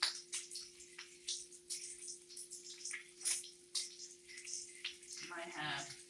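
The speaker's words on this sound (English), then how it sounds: "So I will go ahead and just stir in my grits in my water." Grits being stirred into water in a pot on a stove at home: soft repeated sloshing and scraping strokes, close and quiet, with a steady low hum in the background and a brief bubbling swirl near the end.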